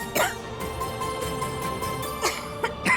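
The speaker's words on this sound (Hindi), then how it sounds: "अचानक से इतनी खांसी क्यों आने लगी?" Someone coughs in a TV drama scene, several sharp, close coughs in irregular bursts spread across a few seconds over a quiet background.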